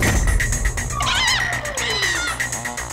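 Indoors in a busy household scene, a cat gives a drawn-out meow, then a couple of shorter mews, heard moderately loud over background room noise and music.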